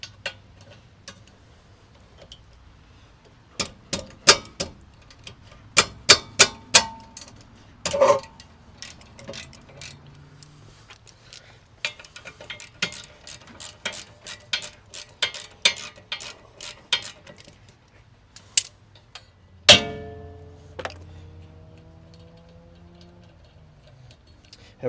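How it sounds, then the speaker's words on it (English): A 17 mm wrench breaks loose the brake caliper bolts on a 2018 Honda CR-V, with a string of sharp metallic ratcheting clicks and taps up close, followed by a louder clunk and a ringing metal tone toward the end. "we're now going to use the 17 here again and crack both of these bolts off"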